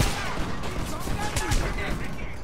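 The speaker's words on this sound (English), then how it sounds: "Alright, I'm going grenade launcher." Heavy booms and blasts from grenade launcher fire in the shooter game Homefront pile up in a dense, loud barrage, with overlapping gunfire and battle noise.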